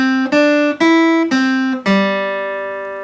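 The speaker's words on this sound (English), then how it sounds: "Now what's left is a 5-note grouping that sounds like this." Electric or acoustic guitar picks a five-note riff from a Doki Doki Literature Club song, each note struck cleanly and ringing out, with the last note left sustaining and fading, played alone without talk.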